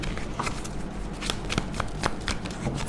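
A deck of tarot cards being shuffled by hand, a close, continuous papery riffle with rapid crisp flicks and slaps, heard alone.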